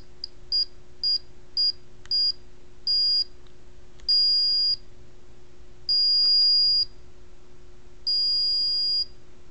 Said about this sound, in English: make the beeping shorter or longer